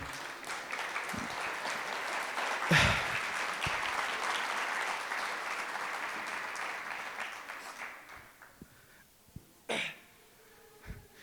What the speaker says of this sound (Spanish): si vas a aplaudir, apláudele al Señor